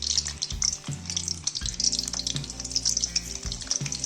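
Eggs frying in oil with turmeric for egg biryani, close sizzling with scraping and stirring knocks of a spatula in an irregular rhythm, no talk.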